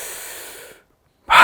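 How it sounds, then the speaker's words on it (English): One deep breath of fresh air taken at an open window: a long, loud inhale that fades out, a brief silence, then a sharp, strong exhale close to the microphone. "deep breath, breathe that air in."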